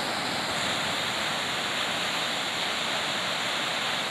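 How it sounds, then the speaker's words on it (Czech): Rough sea waves break across an entire beach at night, producing a loud, continuous roar of surf that fills the scene without pause or voices. "to přes celou pláž dělají se vlny a"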